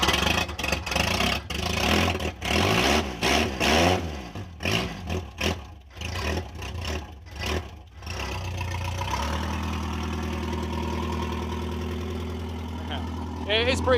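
A Ford Cortina Mk2 1600E engine with no exhaust system cranks and catches with rough, uneven bursts, then settles into a harsh, steady idle with a raw, unmuffled drone. Voices talk over it.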